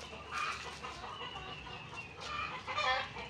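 Black Australorp and Rhode Island Red chickens on a farm cluck in short bursts, fairly near and steady against a low background hum, with no talking.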